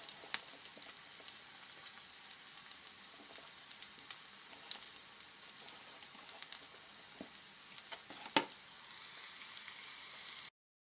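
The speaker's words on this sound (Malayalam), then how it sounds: "ഈ വെളുത്തുള്ളിയും കൂടെ ചതച്ചൊന്ന് ഇട്ട് കൊടുത്തേക്കുവാണ് കേട്ടോ." Crushed garlic frying in a hot pan, a steady bright sizzle with scattered crackles and pops and occasional scraping as it is stirred, close and continuous before cutting off abruptly.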